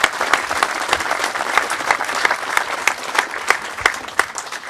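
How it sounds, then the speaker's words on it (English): A crowd applauds after a men's singles tennis final at a Bendigo pro tour event, with steady, close clapping and sharp individual claps sustained for several seconds and no talk over it. "a big round of applause for the two guys"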